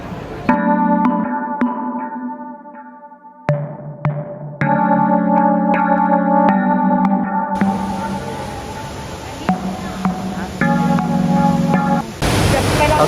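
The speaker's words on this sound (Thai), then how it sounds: "ก็หลังจากรับกระเป๋านะครับแล้วก็ขึ้นมาชั้น2นะครับอีกชั้นหนึ่งแล้วก็มาเจอกับน้ำตกเดี๋ยวจะพาไปดูกันครับ" An indoor waterfall on the second floor of an airport terminal: a continuous broadband rush of falling water fills the space, under echoing tonal chimes and hall ambience, loud and steady throughout.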